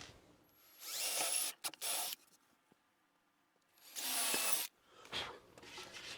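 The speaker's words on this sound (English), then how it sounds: "we'll go ahead and drill a couple of pilot holes down through there" Two long bursts of a power drill boring into wood, each lasting a couple of seconds, with short whirs and quiet pauses between them, close by.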